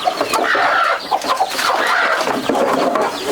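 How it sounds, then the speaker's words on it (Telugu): Chickens kept in a tribal village cluck and squawk continuously and close by, several birds calling over one another in a busy farmyard. "కోళ్ళు కూడా ఉన్నాయి మంచిగా."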